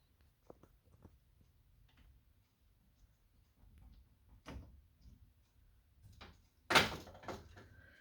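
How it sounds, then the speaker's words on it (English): A cupboard door in a room of vintage Halloween decor is handled with small ticks and taps, then shut with one loud knock near the end, fairly close, without speech. "Let me get the door shut"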